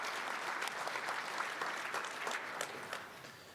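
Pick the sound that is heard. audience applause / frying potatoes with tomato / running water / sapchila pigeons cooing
audience applause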